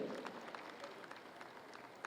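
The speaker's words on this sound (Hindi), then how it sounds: "तालियों की गड़गड़ाहट से स्वागत कीजिए।" Audience at a state cooperative conference in Patna applauds steadily, a dense wash of many hands clapping that holds at an even level without a break, with no voices rising above it.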